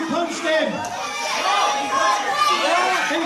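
A wrestling crowd reacts to a sucker punch with a sustained roar of shouts and chatter filling the venue, loud and continuous.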